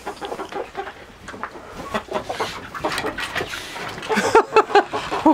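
Backyard hens cluck busily while pecking at cooked pasta, with overlapping close clucks throughout and a denser burst of sharp calls near the end.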